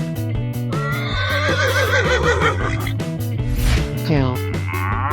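A horse neighs in a 3D animal video game, a loud, wavering whinny that rises and falls over bouncy background music, with a brief pitch sweep near the end.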